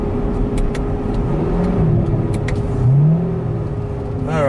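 C7 Corvette fitted with an Edelbrock E-Force supercharger, engine note shifting after a manual downshift while approaching a stop sign, heard from inside the car as a steady close drone with whirring rises and falls.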